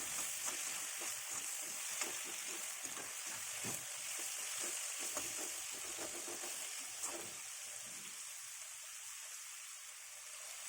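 Tomatoes stirred and sautéed in a pan for turkey berry kuzhambu, a soft, steady frying hiss with light intermittent scraping of a spoon that fades toward the end.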